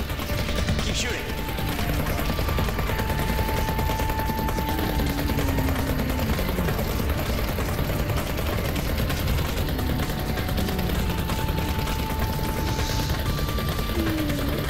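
Rapid gunfire from a shooter in the VR game Vertigo 2, steady bursts of shots mixed with clanking and crunching impacts, loud and continuous against a busy game soundscape.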